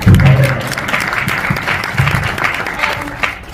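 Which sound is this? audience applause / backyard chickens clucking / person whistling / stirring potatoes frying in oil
audience applause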